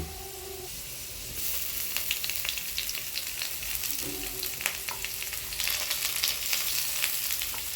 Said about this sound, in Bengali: পেঁয়াজগুলোকেও বেশ বাদামি টাইপ কালার করে কিছুক্ষণ ভাজতে হবে